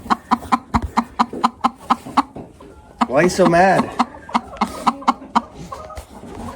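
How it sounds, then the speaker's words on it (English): A broody hen clucks in rapid, sharp, agitated bursts up close, breaking into a louder drawn-out squawk midway before resuming her steady clucking, while a person briefly speaks over it. "we got this broody chicken, and she can get mean when she's broody"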